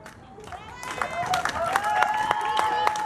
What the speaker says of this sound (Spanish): ¡Gritos y aplausos!